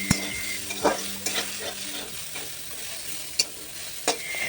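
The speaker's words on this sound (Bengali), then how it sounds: "আলু ভাজা হয়ে গেলেই ওই তেলেই দিয়ে দেব নুন হলুদ দিয়ে মেখে রাখা সয়াবিনগুলো" Soya chunks fry in hot oil with a soft, steady sizzle, broken by a few clattering stirs and scrapes of a spatula in a pan.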